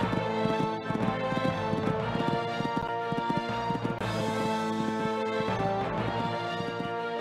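Horse galloping over a cross-country course in the Equestriad 2001 video game at a Kentucky three-day event, with rapid rhythmic hoofbeats running continuously under game music.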